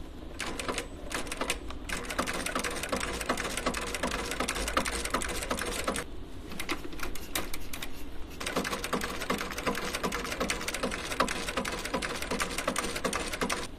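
A sewing machine stitches a leather accordion card wallet in a steady, rapid, close mechanical chatter that runs continuously with two short pauses, and no talk.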